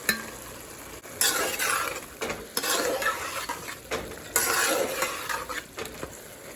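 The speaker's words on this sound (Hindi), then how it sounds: "अब हम इसमें टमाटर डाल देंगे। 2 अदर टमाटर हैं दरमियानी साइज़ के, ये डालेंगे इसमें।" Two medium tomatoes go into minced meat frying in a pan, then get stirred with a utensil, giving a continuous sizzle broken by scraping and clinking strokes, close and loud, with no talk.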